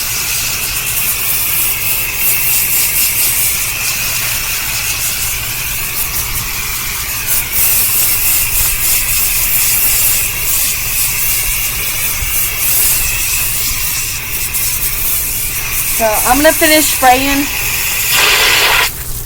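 A garden hose sprays water over a horse being bathed, a steady broad hiss that runs on without a break, with a voice briefly talking near the end.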